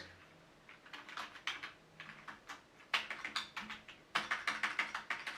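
Keys on a Logitech MK320 wireless keyboard are typed in quick irregular bursts of light clicking taps, close but fairly quiet, with short pauses between words and no speech.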